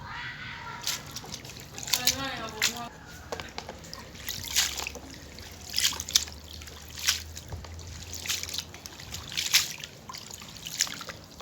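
Water trickles and drips off strips of green mango being rinsed in plain water after a lime-water soak, irregular splashy drips and small sloshes close by, with someone speaking briefly at the start.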